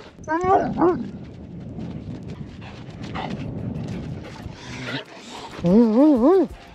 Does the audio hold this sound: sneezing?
no